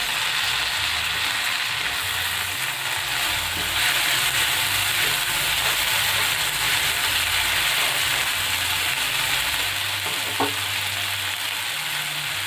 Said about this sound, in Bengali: ভালো করে একবার সবকিছু মিশিয়ে নেব